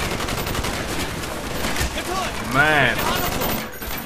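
Bursts of rapid gunfire from the player's gun in Call of Duty: Black Ops crackle continuously under a dense battle din, with someone briefly speaking partway through.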